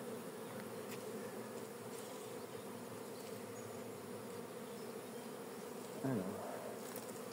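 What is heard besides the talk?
honeybee colony buzzing during hive change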